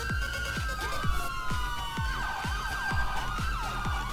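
A police car siren in an ESX roleplay video game, a fast yelping wail that cycles steadily at close range, with a thumping rhythm underneath and no voice.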